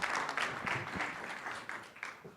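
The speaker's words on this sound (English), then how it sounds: "Big round of applause." An audience at a startup pitch showcase applauds after a presentation, with soft, fairly faint clapping that rises in uneven bursts and then fades.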